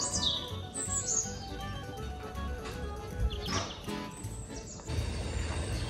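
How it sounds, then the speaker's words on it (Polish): Small birds chirp and trill nearby on a winter walk in Siena, Italy, with quick overlapping calls repeating through the whole stretch, alone with no talking. "Nie wiem, czy słyszycie tą ptasią serenadę?"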